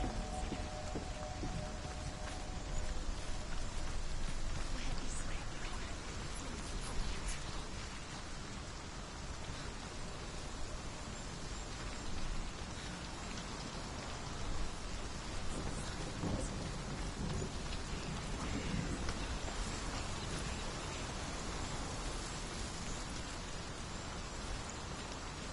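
Steady rain and rumbling thunder in the video game Hellblade: Senua's Sacrifice, a dense continuous downpour with occasional heavier rolls, loud and filling the scene with no talking.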